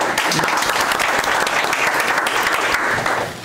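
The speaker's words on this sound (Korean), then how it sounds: "역시 박수로 모시겠습니다." Audience applause at a Green Party leadership candidates' debate, a dense steady wash of many hands clapping throughout, fading slightly at the end.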